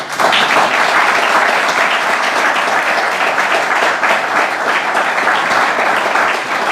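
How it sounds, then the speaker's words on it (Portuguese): A church congregation applauds steadily and loudly, a dense continuous wash of clapping that holds without pause throughout. "E os irmãos dêem uma salva de palmas para Jesus."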